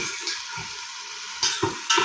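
Ginger-garlic paste ground with a green chili, sautéing in a hot pan for chicken biryani: a steady soft sizzle broken by a few light scraping stirs near the end.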